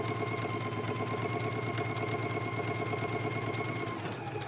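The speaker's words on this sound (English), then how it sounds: "go ahead and stitch the front band to the right front, right across the lower edge here in a 5/8 of an inch seam allowance" A sewing machine runs steadily as it stitches a jacket front band to the right front along the lower edge, a continuous motor hum with a fast even needle rhythm that slows slightly near the end.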